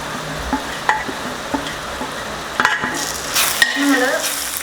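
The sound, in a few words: spice powders added to crab masala, stirred and sizzling in pan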